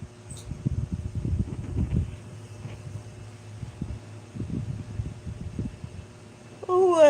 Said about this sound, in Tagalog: Ipalang mo yung electric fan, Mac.